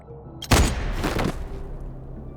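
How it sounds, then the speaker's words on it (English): A gunshot in the video game Honkai Star Rail: one loud, sharp blast rings out, followed by a second burst and a long fading rumble, heard alone with no talk. "Wait, that's a gunshot!"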